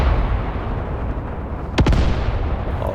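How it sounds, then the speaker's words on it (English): Artillery barrage in the WWII tactics game Graviteam Tactics, a loud continuous rumble of booming fire with a sharp burst near the middle, steady and dense throughout. "Start laying into them with the artillery."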